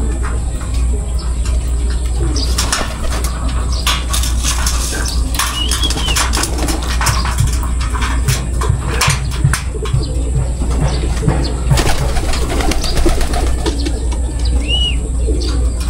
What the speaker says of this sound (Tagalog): Kasi yung mga kalapati na yan